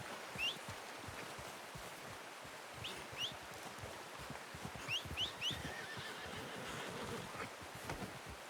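A horse in the Red Dead Redemption 2 video game gives short whinnies and snorts in an outdoor hunting setting. The calls are intermittent and fairly faint under a steady wash of ambient rustle, with soft movement sounds beneath them.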